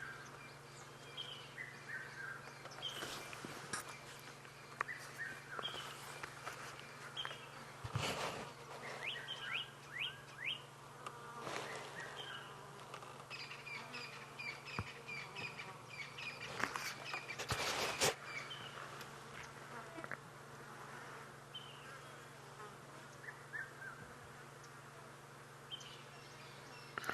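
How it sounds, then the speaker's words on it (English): A dawn chorus rings through African woodland at sunrise, with overlapping chirps, trills and calls near and far, including woodland kingfisher and Levaillant's cuckoo, over a low steady hum and some faint rustles. "There's a cacophony of bird calls going on around us."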